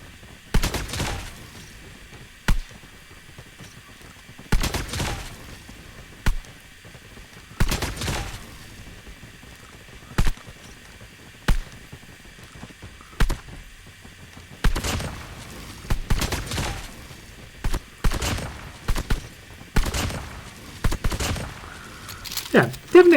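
Bursts of CR-56 AMAX rifle fire in a video game, short volleys and single shots separated by pauses, fairly loud and sharp throughout.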